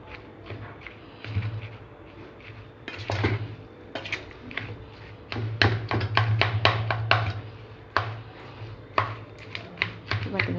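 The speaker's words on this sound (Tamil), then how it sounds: "பார்த்திங்கன்னா எல்லா சாப்பாட்டையும் நம்ம உடச்சி விட்டு நல்லா கிளறியாச்சுங்க" A spoon scrapes and clanks against a pot as lemon rice is stirred and broken up, irregular metallic taps and scrapes coming in bursts with steady sizzling and kitchen background beneath.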